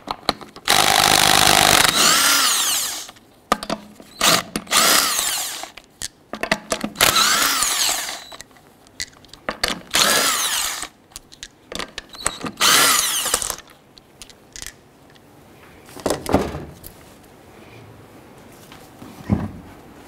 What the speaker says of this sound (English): Using a 19 millimeter socket, go ahead and loosen and remove the lug nuts and then remove the wheel.